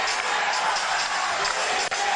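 Ginebra fans cheering at a 2001 PBA All-Filipino Finals basketball game against San Miguel, a dense, loud, sustained crowd roar filling the arena.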